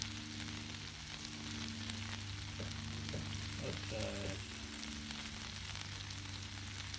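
Medium-to-jumbo flour tortillas sizzle on a flat-top griddle for steak tacos, a steady close frying hiss running throughout with a background hum and a few faint clicks midway.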